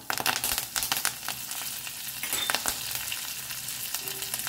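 Curry leaves and urad dal crackle and spit in hot oil in a pan, loud close popping bursts over a continuous sizzle, with no voices.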